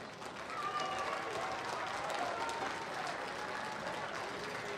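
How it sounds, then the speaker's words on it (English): Steady applause from a large crowd at a high school football game, dense continuous clapping that holds at an even level throughout. "Let's give all of these fine young ladies and men a hand of applause."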